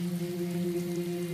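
Steady rain falls, producing a continuous, even patter, with a sustained low hum running underneath throughout.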